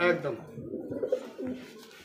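Pigeons at a pigeon sale give soft, low, throaty coos that repeat over about two seconds, close by and fairly clear, with some quiet voices in the background.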